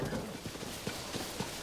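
Rhythmic clip-clop of horse hooves trotting across a meadow in the video game Zelda: Tears of the Kingdom, a steady run of soft thuds under a faint bed of ambient game sound.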